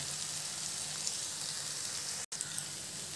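Egg masala fries in a pan over a medium flame with a steady, even sizzle and light popping. A brief drop in the sound breaks it once, then the sizzle carries on.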